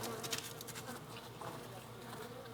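An invasive hornet hovers near beehives while hunting bees, a steady faint buzzing drone of wings throughout, heard from close by in an outdoor apiary.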